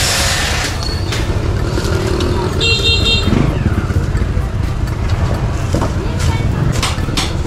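A motorcycle engine freshly fitted with a new exhaust runs steadily in street traffic, with a short horn toot partway through and people talking over it.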